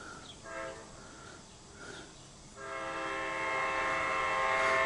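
A CSX Q415 mixed freight train heading eastbound sounds its horn in several chord blasts, starting with short toots and building to a long sustained blast as the rumble grows louder.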